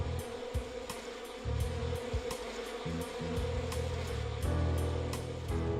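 Insects buzz in the Dog's Life video game for PS2, a steady droning hum with intermittent clicks and pulses from the game's soundtrack and effects, with no voices over it.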